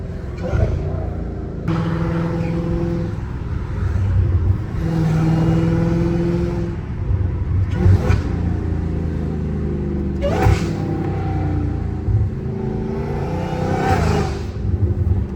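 A Dodge Hellcat Redeye with an aftermarket intake revs up and down in repeated pulls, its deep rumble overlaid by a high supercharger whine, loud and close. Voices talk over the engine at times.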